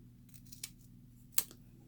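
Scissors trim the folded top of a paper hinge, giving a couple of short, quiet, crisp snips, the second sharper than the first, in an otherwise still room.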